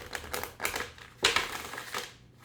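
Cards are shuffled in a few quick riffling bursts, close and fairly soft.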